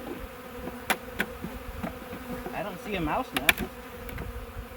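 Honey bees buzz steadily around an opened hive during a March inspection, a soft continuous drone with a few sharper close passes, while someone speaks briefly over it.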